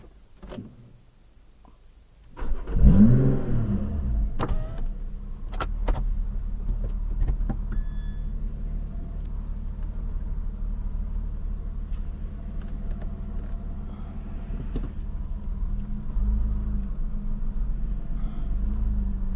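A Lotus Exige 410 sports car, whose exhaust valves open at 4500 rpm, starts with a sudden loud engine burst and then settles into a steady, deep exhaust rumble close by, with a few clicks and ticks early on.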